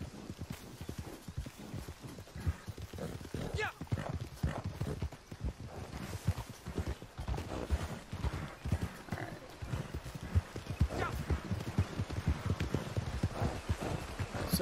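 Horse hooves clip-clop steadily over ground in an online video game while a stolen horse is nearly dead, with a dense, close rhythm that runs throughout, occasional neighs, and a little talk underneath.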